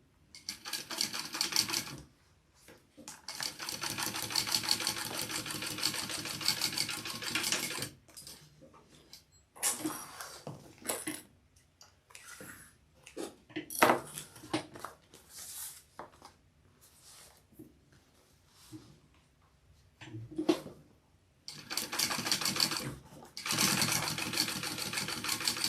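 A sewing machine top stitches a fabric cookie carrier in bursts of rapid, even needle clatter, several seconds each, separated by pauses with light handling and rustling noises.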